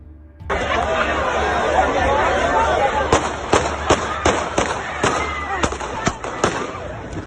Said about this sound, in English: Meanwhile, gunfire breaks out at the Louisville, Kentucky protest in response to the death of Breonna Taylor.